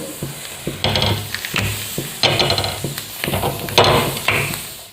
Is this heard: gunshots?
no